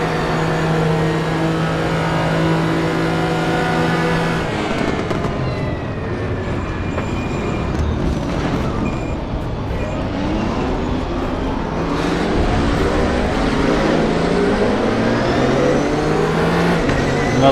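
Race car engines in the RaceRoom racing game, with a RUF car running ahead: a loud, continuous engine roar shifting pitch as the cars rev, change gear and pass close by, with no voices.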